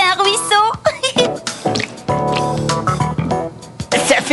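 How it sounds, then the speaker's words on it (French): A cartoon water-spill effect gives drippy, squishy liquid splashes that sit under a narrating voice and musical tones throughout. "Quand l'un d'eux renverse son verre d'eau, Ça fait un ruisseau."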